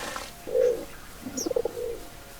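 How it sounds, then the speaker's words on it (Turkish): Pigeon coos from a realistic pigeon mod in Minecraft: one drawn-out coo followed by a quick burbling series, close and clear with no talking. "Gerçekçi de bu bayağı gerçekçi güvercin moda olmuş yani."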